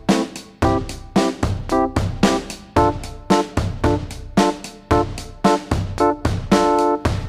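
Minor-key chord progression on a keyboard, chords struck in a steady rhythm of roughly ten attacks, each ringing and decaying before the next, close and clear with no talking.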